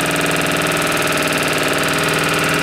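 A homemade Kromrey generator spins at steady speed, giving a continuous dense mechanical hum with a fast regular pulsing rattle, close and fairly loud throughout with no talking.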